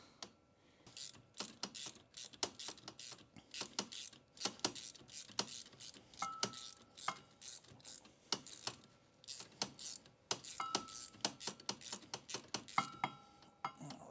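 A ratchet wrench with a swivel tightens the spark plug on a Ski-Doo 600 E-TEC snowmobile, giving quick repeated clicking bursts close by, mixed with metallic tool clinks and a few brief tonal squeaks, with no talking.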